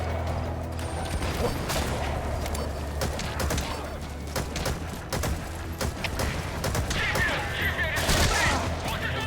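Gunfire in Metal Gear Solid V: The Phantom Pain comes as repeated close shots and bursts over a constant low rumble of mechanical game noise, with a brief spoken voice amid the shooting.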